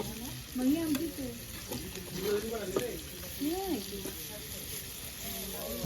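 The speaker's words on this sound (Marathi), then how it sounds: "बघा पापलेट फ्राय मस्त हे बघा हे मस्त हळूहळू कुक होणार" Pomfret fish frying in a pan gives a soft steady sizzle beneath a person talking, fairly quiet and close.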